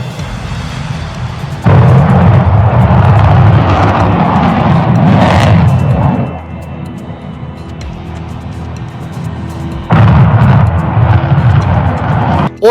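Ukrainian Flamingo missile roaring loud and steady in two long bursts of broadband rushing thrust, with a quieter rumbling stretch between them, like launch and flyby.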